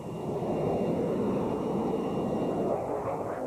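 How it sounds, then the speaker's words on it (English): A Lockheed S-3 Viking, a jet-powered anti-submarine patrol aircraft, produces a steady, even roar of jet engine noise that holds constant without breaks. "The jet-powered Viking was the logical follow-on."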